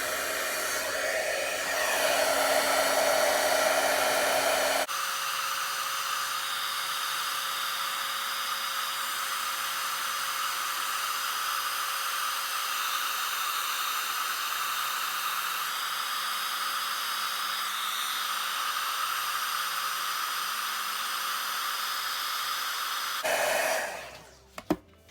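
A heat tool blows steadily while heat setting Versamark ink on cardstock, giving a loud, even whooshing hiss that runs for about twenty seconds before switching off abruptly.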